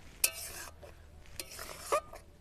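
Semolina cooking with water in a pan is stirred in a few short bursts, a soft scraping with sharp utensil clicks against the pan over a faint background.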